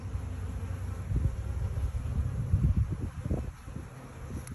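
Honey bees buzzing around a hive, a low continuous droning hum with rustling, close and moderately loud with no talking.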